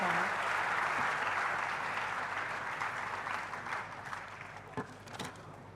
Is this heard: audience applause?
yes